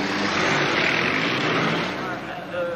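Peugeot 505 Turbo race cars roaring off at the start of a 1986 circuit race, a dense, loud engine roar from several cars close by, with a commentator's voice faintly under the noise.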